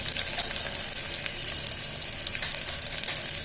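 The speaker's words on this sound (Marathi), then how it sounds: "त्याप्रमाणे कांदा गोल्डन ब्राऊन करून घ्यायचा" Onion frying in a pan until golden brown, a steady, close, continuous sizzle with fine crackling and no voices.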